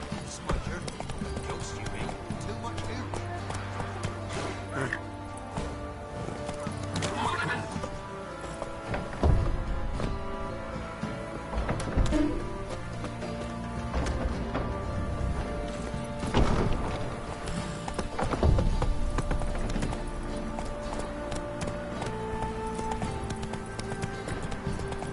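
Roach, Geralt's horse in The Witcher 3, clip-clops along at a steady gallop with hooves drumming beneath game music, a few sharper thuds, and voices speaking over the ride.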